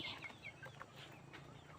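Chickens cluck at dusk on a farm as they settle to roost after their evening feed: several short, soft clucks close by over a quiet background, with no talking.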